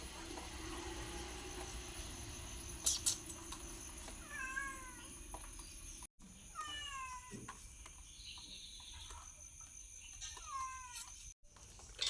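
A cat indoors meows repeatedly for fish being cooked, about four short, fairly quiet mews spaced a few seconds apart over a low household hum.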